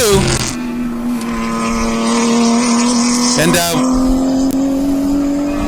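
Touring cars race at Sonoma in a US Touring Car Championship round, their engines a steady high drone that shifts pitch midway as they power onto the next turn, with a commentator talking over the noise.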